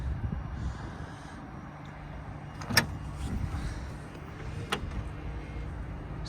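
A car's power trunk lid motor whirs softly as the lid comes back down, with a low hum and a couple of sharp clicks. The engine is running, and faint sounds of handling are heard nearby.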